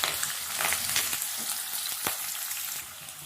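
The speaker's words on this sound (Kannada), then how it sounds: "ಇವಾಗ 1 ಕಟ್ ಮಾಡಿರೋ ಆನಿಯನ್ ಹಾಕೋತಾ ಇದ್ದೀನಿ" Chopped onion with curry leaves hits hot oil for lemon chitranna, giving a steady, close hiss of frying with a few soft stirring scrapes that eases slightly toward the end.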